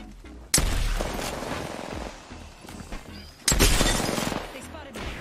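Gunfire strikes around a player in a shooter game: two sharp, loud impact bursts with rattling, debris-like decay between them, and speech mixed in underneath.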